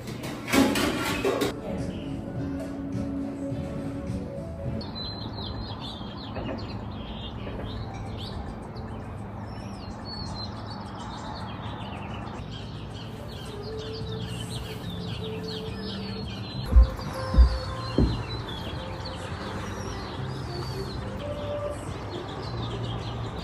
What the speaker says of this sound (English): I could literally sit here and I just hear birds chirping.